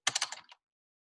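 Someone types a quick burst of about half a dozen close, crisp keystrokes on a computer keyboard, then stops into silence.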